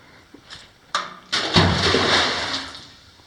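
Water rushes and gushes loudly for a couple of seconds after a few short knocks, then slowly fades, like a toilet flushing.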